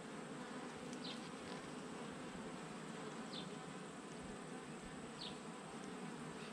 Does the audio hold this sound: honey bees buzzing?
yes